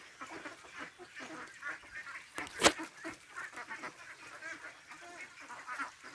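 Two-month-old ducklings on their first day swimming, quacking amid splashy movement on water, with one loud honking call standing out midway over a busy background of softer calls.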